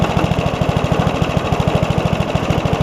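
An old top-pull Briggs & Stratton engine on a Craftsman push mower idles low and steady, its even putt-putt firing pulses close and loud with no one talking.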